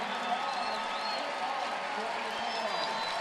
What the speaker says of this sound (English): So Zerboni will get a nice ovation, and the crowd will come to its feet